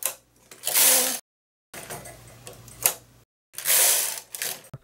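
A knitting machine carriage pushed back and forth while short rowing, three separate whirring, clattering passes with short silent gaps between them, close and clear.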